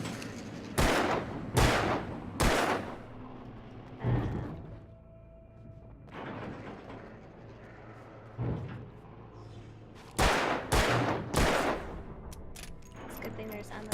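Loud, close gunshots in Alan Wake come as sharp single cracks, three in quick succession, then one alone, another after a pause, and a final rapid cluster, with someone talking between them.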